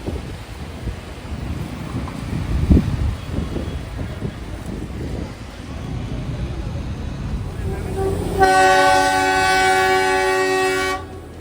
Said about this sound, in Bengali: রাস্তায় যেতে যেতেই কিন্তু দেখা মিলল দার্জিলিংয়ের ঐতিহ্যবাহী টয় ট্রেন।